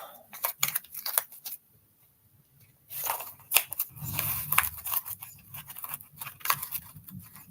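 A pet chews and tears paper up close, with bursts of crisp crunching and crinkling, a quiet pause of about a second and a half, then more irregular rustling crunches.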